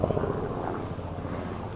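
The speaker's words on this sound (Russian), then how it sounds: "Ну, вертолет." A helicopter drones steadily through a broad, even rumble, heard from some distance outdoors on a mountain trip near Listvyanka, with wind-like noise over it and no clear talk.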